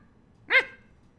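A voice imitates a dog's bark: one short, clear woof in an otherwise quiet moment.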